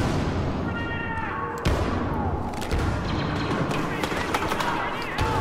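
A grenade goes off in Star Wars Battlefront PC gameplay as a single thudding blast amid busy game noise and scattered gunfire, with a voice talking over it.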